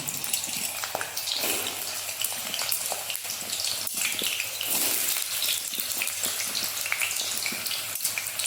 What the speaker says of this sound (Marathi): सुरण पण थोडंसं तळून घेणार आहे.